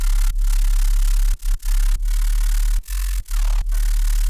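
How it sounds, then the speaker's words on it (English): Loud, dense white noise with a deep sub bass beneath it, the noise ducking sharply in brief rhythmic dips each time the bass hits. "So what the sub oscillation is basically side chaining the white noise."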